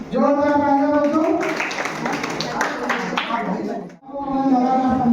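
Children at a school Teachers' Day event clap together in a burst of scattered applause lasting a few seconds, with an adult speaking into a microphone before and after.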